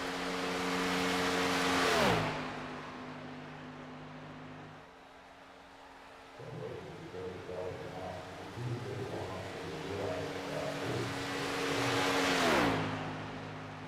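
A stock race car laps a superspeedway, its engine roaring up close and dropping in pitch as it sweeps past, fading into distant drone, then returning for another loud pass near the end, with faint commentary underneath.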